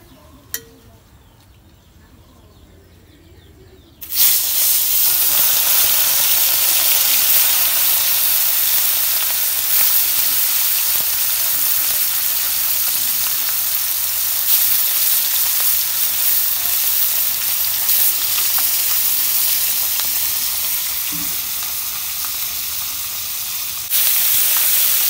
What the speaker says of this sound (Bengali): মাছ ভাজা আমার হইতে থাক